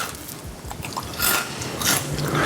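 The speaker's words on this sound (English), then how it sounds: "one final test, the crunch test" Crunchy bites into vegan buttermilk fried mushroom 'chicken', close and fairly loud, with a few sharp crackling crunches followed by brief chewing.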